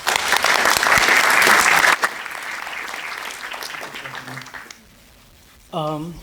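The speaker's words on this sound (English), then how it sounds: "Please give them both a round of applause." Audience applause at a sustainability summit, a loud burst of clapping from a crowd that fades over a few seconds, followed by a brief pause and then a voice beginning to speak.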